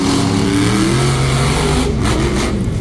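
Monster trucks race in an arena, their engines revving loud and steady with rising and falling pitch and no break.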